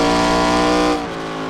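A 2003 Chevy NASCAR race car in the iRacing simulator roars loudly with a steady, buzzing engine note, then drops sharply in pitch and volume as it downshifts, with no talk.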